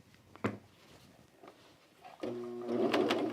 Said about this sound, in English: I'm going to pull it forward along the seam that I'm about to serge.